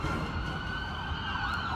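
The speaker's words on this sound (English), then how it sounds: "Give it a second for the sirens to go away" A wailing siren sweeps steadily through the whole stretch, loud and continuous, with low traffic rumble underneath.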